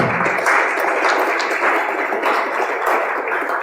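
A church congregation claps together at a worship service, producing a steady, dense wash of applause that stays loud and even throughout with no breaks.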